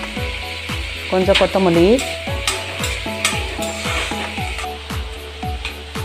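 Tomatoes sautéed and stirred in a pan while making butter chicken, with a steady sizzle and rhythmic scraping strokes of a spoon against the pan throughout, and a voice speaking briefly over the cooking.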